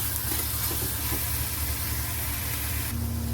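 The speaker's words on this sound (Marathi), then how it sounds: "आता आपला कांदा परतून झालाय" Onion sautéing in a pan with salt, a steady close sizzle and frying crackle that holds at an even level throughout, with faint stirring.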